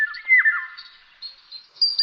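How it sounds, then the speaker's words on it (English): A golden oriole sings by a river, giving clear, sweet whistled phrases with sliding notes. A short fluting run is followed by brief higher chirps, heard close and alone. "This is a golden oriole. His voice is so sweet."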